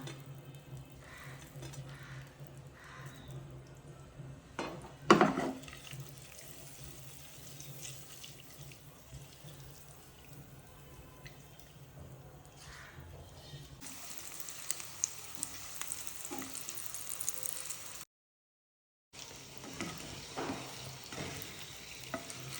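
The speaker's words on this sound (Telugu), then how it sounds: "ఇప్పుడు ఎగ్స్ వేసేస్తాం." Eggs frying and being stirred in a masala pan for Afghani egg masala: a steady low sizzle with scraping stirs, one sharp clatter early on and a brief pause near the end, with no talking.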